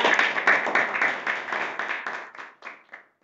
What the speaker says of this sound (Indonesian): Tepuk tangannya disilakan.